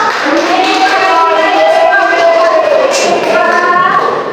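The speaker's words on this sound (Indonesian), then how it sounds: "tepuk tangan dulu dong" A classroom group claps together for several seconds, a steady dense patter of hands mixed with children's voices calling out, sustained without a break.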